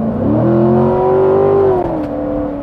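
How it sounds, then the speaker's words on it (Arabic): Chevrolet Corvette Grand Sport engine revving loudly and close, a steady high-pitched drone that holds, rises slightly, then drops back to a lower sustained roar, with no talk over it. "خلينا نسمع صوت السيارة مرة ثانية."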